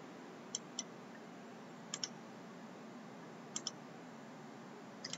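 Computer mouse clicks in a quiet room: three pairs of sharp, close double-clicks spaced about a second and a half apart, with a faint last pair at the end and no voices.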